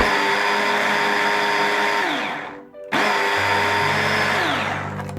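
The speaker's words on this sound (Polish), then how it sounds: "Do malaksera wrzucam trzy filiżanki mąki pszennej" Food processor spinning three cups of wheat flour for pierogi dough: a loud, close motor whir that winds down, cuts off briefly, then starts again and spins steadily before slowing at the end.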